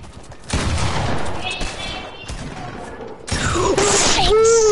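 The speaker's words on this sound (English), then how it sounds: "Ooh, Jujai with the shotgun." Heavy shotgun blasts and bursts of gunfire from a building-and-shooting video game, loud and close, mixed with booms and rising game effects across a few seconds.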